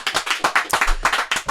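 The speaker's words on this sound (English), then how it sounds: "let's give a round of applause for Spring Tour." A small group claps together in a podcast studio: quick, close, sharp bursts of hand claps with no voices over them.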